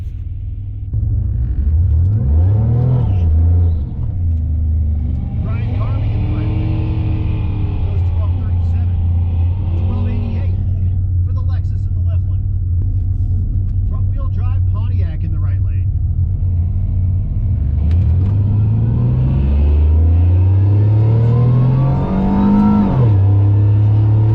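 A GM 3800-powered race car fitted with a 4T80E transmission swap launches hard at a track, its engine roaring and revving loudly through rising and falling pitch sweeps, with a radio announcer's voice playing underneath.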